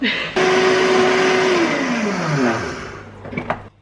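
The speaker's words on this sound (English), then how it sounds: "I put them in my blender, and I'm going to grind them up, blend them." A blender whirs loudly at high speed grinding flax seeds, its pitch dropping as it winds down, followed by a short clatter and a brief voice.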